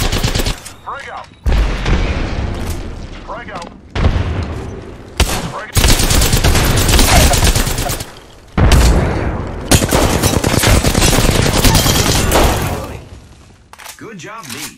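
Rapid gunfire in the Apex Legends video game, with repeated loud bursts of automatic shots separated by short pauses, and voices speaking in between and over the shooting.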